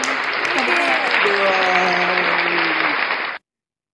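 Audience applause at a talk about becoming a content creator: a steady, dense wash of clapping that holds for about three seconds and then stops abruptly, with faint voices mixed in.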